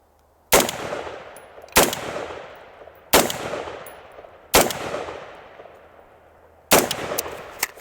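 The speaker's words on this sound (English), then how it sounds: "I'm gonna put a 5-shot grouping down here" A rifle fitted with a 1x prism sight fires five loud, sharp shots at uneven intervals of one to two seconds, each crack followed by a decaying echo.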